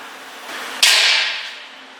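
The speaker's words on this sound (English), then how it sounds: "I put a little center punch on here" A center punch is struck once against a metal part in a motorcycle fabrication shop before drilling, giving one sharp, close impact with a short ringing decay.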